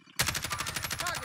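Rapid automatic gunfire from an online shooter game bursts in suddenly and continues as a fast, evenly spaced stream of loud shots.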